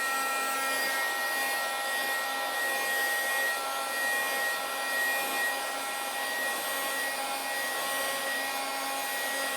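A hair dryer or heat gun warms the taped screen of an Apple iPad 3 during a screen replacement, giving a steady, even whirring blow with a faint whine that runs unchanged throughout and is heard alone.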